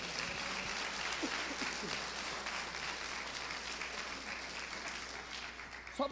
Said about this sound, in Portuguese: Quem entende isso, dê uma salva de palmas ao Senhor,